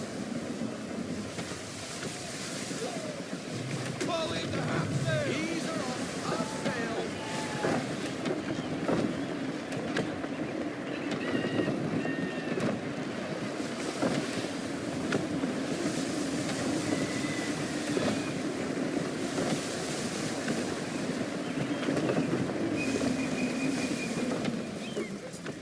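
Gusty wind sweeps over a sailing ship at sea in Assassin's Creed III, a steady loud rush of wind and water noise with creaking and splashing running continuously without talk.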